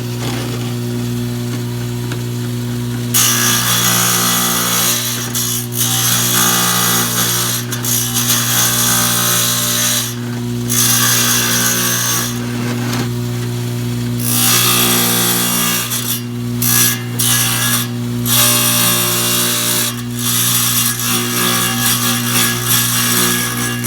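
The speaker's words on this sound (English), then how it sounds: "I'll cut down a little bit on my wet saw" Subway tile being cut on a wet saw, a loud, close hissing grind that comes in bursts over a constant motor hum, pausing and resuming several times.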